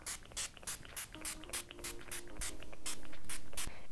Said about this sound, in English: I'm just gonna spray my face with the Urban Decay All Nighter Setting Spray